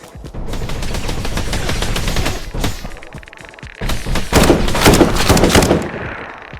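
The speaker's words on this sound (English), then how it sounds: "We gotta use this PPSH one last time before we make the swap anyway." A PPSh submachine gun firing in a zombie survival video game on hardcore difficulty, loud sustained automatic bursts with a brief pause between two long volleys, no voices.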